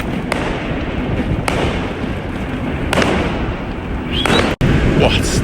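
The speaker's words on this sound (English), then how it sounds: "Hey, we got fireworks." Chinese New Year fireworks go off in a few sharp bursts at roughly one-second intervals over a steady, noisy outdoor background, with one louder crack near the end.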